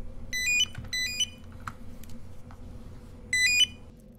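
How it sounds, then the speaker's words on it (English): An electronic phone ringtone trills in three short, bright bursts, two close together and a third after a pause, over a low background hum during a scam call on a livestream. "Oh, phone's ringing again."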